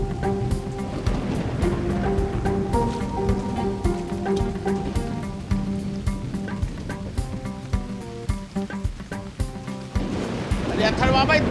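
Heavy rain pouring steadily on a garden, a dense wash of noise under music and a voice speaking in Hindi.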